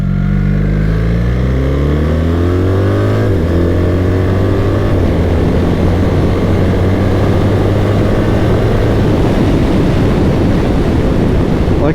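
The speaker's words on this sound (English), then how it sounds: "that wasn't even full twisting the throttle" A 2024 BMW R 1300 GS motorcycle engine revs up hard under throttle, its loud, rising drone climbing in pitch close to the microphone, buried in heavy wind roar throughout.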